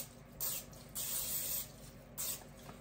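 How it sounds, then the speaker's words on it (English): Cooking spray hisses into an 8x8x2 baking pan in three short, close bursts separated by brief pauses, soft but crisp and airy. "Take a little cooking spray. Give it a little squirt."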